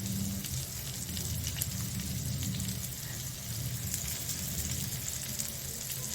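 Masala-coated garlic pieces fry over a medium flame for surmai fish curry, a soft steady sizzle and crackle throughout, fairly quiet and close, with no voices.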